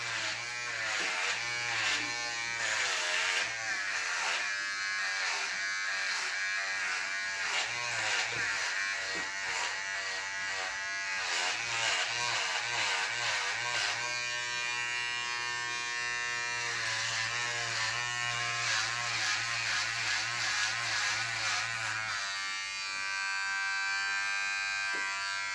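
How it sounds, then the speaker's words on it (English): A Braun electric beard trimmer made in Germany buzzes steadily as it shaves a head, a close, continuous whine that shifts pitch slightly as it presses into the hair, running alone throughout. "I'm using like a Braun beard trimmer made in Germany"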